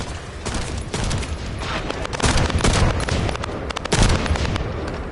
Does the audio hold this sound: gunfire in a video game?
yes